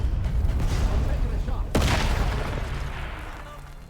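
A sharp blast from an explosion in the video game Atomfall, one sudden broadband burst partway through, rising over continuous game noise and rumble and then decaying.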